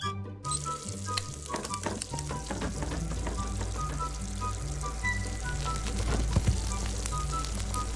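In the video game Who's Your Daddy, a fire burns with a dense crackling sizzle under steady background music, with scattered sharper snaps.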